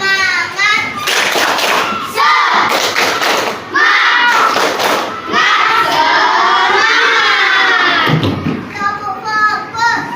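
A classroom of children performs a rhythmic clapping chant, bursts of loud claps and thumps alternating with shouted chanted words, the whole group close and energetic with brief gaps between phrases.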